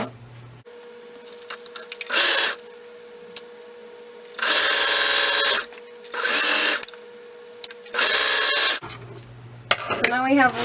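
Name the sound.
sewing machine stitching tights leg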